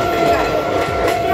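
Brief, loud rush of a through train going by on the rails, continuous rolling rumble with a faint clatter of carriages, close to the listener.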